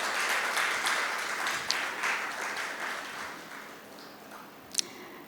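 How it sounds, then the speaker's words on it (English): An audience at an international shipbuilding conference gives a round of applause, a dense wash of clapping that slowly thins toward the end, with a sharp tap near the close. "A huge round of applause for him."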